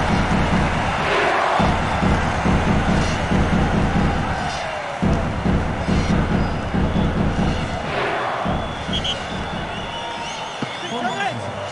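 Stadium crowd noise from the FIFA World Cup 2002 PC football game, with Scotland playing Japan. A loud, steady roar of cheering runs throughout, with a commentator talking over it.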